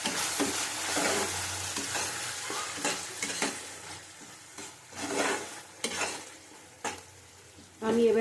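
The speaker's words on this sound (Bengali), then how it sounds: "আবার ভালো করে কষিয়ে নেব" Taro being fried with panch phoron in a pan: continuous close sizzling broken by frequent scraping stirs and light utensil knocks against the pan.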